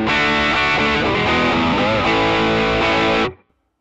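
Electric guitar played through a Fractal FM3 on a Classic Expander Plus Drive preset: a driven, sustained chordal phrase lasting about three seconds, then cut off abruptly to near silence.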